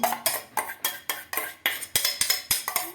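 Spoon stirring yogurt into mutton biryani in a metal pot, a rhythmic series of about a dozen sharp scraping clinks at an even pace, close and fairly quiet.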